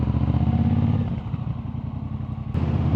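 A motorcycle engine drones steadily and close while riding, with wind buffeting and a gear change or rev shift near the end, and no talking.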